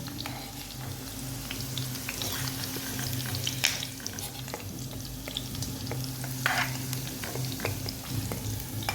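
Bell pepper frying in oil for a dhaba-style mixed vegetable dish: a steady, close crackling sizzle runs throughout, with scattered light clicks of a utensil against the pan over a low background hum.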